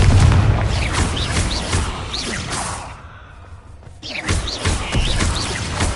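Explosive spell blasts in the video game Hogwarts Legacy, heavy booming bursts with whooshes, a brief lull in the middle, then more blasts, loud and close.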